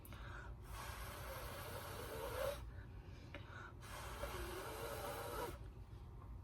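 Two long, breathy puffs of air blown through a straw onto acrylic paint, each a few seconds long with a short pause between them, quiet and close.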